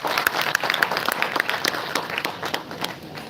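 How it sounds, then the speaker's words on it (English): An audience claps for students at a bootcamp event, a lively burst of many hands with sharp individual claps standing out, close and continuous for a few seconds. "A big round of applause to every student who has come up here"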